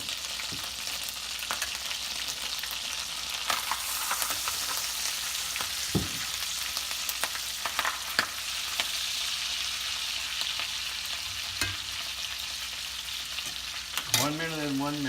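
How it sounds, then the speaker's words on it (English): A steak sears on a hot grill, hissing and sizzling steadily, with scattered pops and crackles and a few sharp clicks and knocks near the cooking surface. "You want to get the fire hot enough so when you place a steak on it, you get a good sear."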